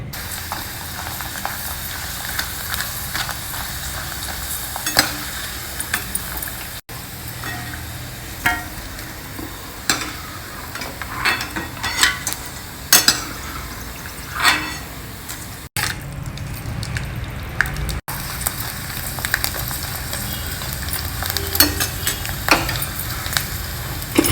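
Rice vadam wafers fry in hot oil, giving a steady close sizzle with scattered crackles and sharp pops throughout, no talking.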